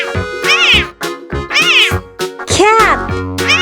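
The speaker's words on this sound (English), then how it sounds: "Cat." A cat meowing up close, several loud, clear meows in a row with short gaps, the last one longer and more drawn out, with no talking over them.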